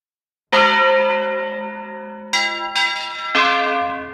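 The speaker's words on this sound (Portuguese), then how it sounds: "Pelo dobrado do sino, o som do sino, você sabe, ó, morreu alguém em Santa Efigênia." A church bell tolls a funeral toll in Santa Efigênia, a historic Minas Gerais town, with loud ringing strikes whose long ringing decay overlaps the next, alone with no talk.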